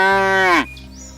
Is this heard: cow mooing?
yes